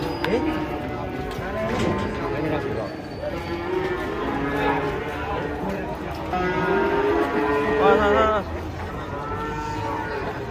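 Several large cattle moo repeatedly, long drawn-out calls overlapping one another while being unloaded from a truck, amid a busy crowd with voices talking nearby.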